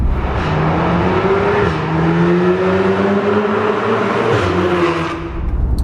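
A 410bhp APR Stage 2 tuned VW Golf R accelerates hard, its engine note climbing steadily through two long pulls with a brief dip for a gear change, loud and close with road and wind noise.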